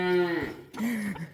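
Cattle in a farm barn give two drawn-out moos in close succession, the first strong and harmonic, the second lower and shorter, heard close with no talk over them.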